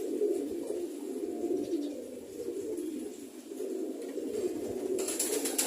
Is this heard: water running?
no